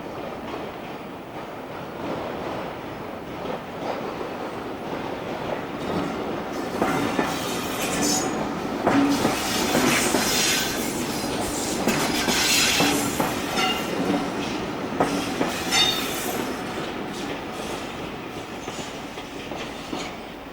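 British Rail Class 303 electric multiple unit, a 1959 Glasgow suburban train, running steadily with rumbling wheels, clickety-clack rail joints and some wheel squeal, the sound swelling as it nears, no talk.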